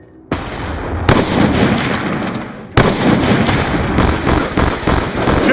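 Heavy gunfire and explosions crash through a Black Ops 2 match, loud and continuous with sharp bursts, where a concussion grenade is thrown and goes off amid the firefight.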